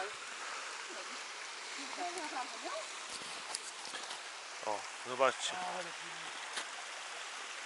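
A cold mountain stream near Klimczok peak rushes in a steady, hissing flow close by, with people talking briefly over it.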